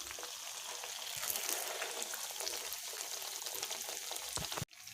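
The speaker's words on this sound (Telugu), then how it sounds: "ఇలా ఒకవైపు ఫ్రై అయ్యాక మరోవైపుకి టర్న్ చేసుకోవాలండి" A homemade sweet fries in hot oil in a pan, giving a steady close sizzle and bubbling throughout that cuts off abruptly near the end.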